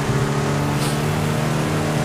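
Engine drone of a car driven in GTA V roleplay, a steady low hum holding throughout at moderate loudness with no talk over it.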